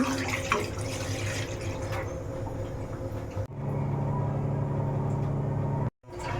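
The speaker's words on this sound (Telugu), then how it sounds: "నేను గ్లాస్ పిండికి రెండు గ్లాసులు వాటర్ పోయాలి" Water pours steadily into a kitchen pot for rice flour dumplings, a continuous close rushing stream that briefly breaks off near the end, with no talking.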